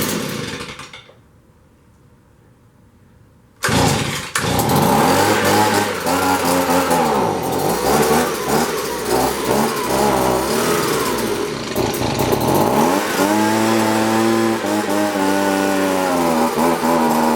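A Stihl BG65 leaf blower, set at half choke and running poorly, cuts out briefly then roars back, its small two-stroke engine loud and close with repeated revving rises and falls.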